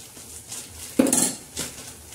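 Masala being stirred in a pan, heard as a few close metallic scrapes and clinks of a spoon against the pan over quiet background noise, with one louder knock partway through.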